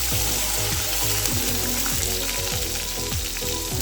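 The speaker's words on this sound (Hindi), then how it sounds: "पतीले में डालते हैं ऑयल। चलें जी, अब इसमें ऐड करते हैं प्याज।" Onions frying in hot oil in a large cooking pot for biryani, a loud dense continuous sizzle with repeated rhythmic scraping strokes of a spoon stirring through the pan.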